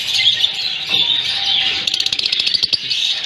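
Lovebirds in a breeding aviary chirp loudly and continuously, with dense overlapping high tweets and a rapid burst of calls near the end.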